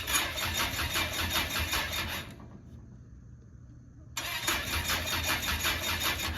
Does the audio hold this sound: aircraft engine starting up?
yes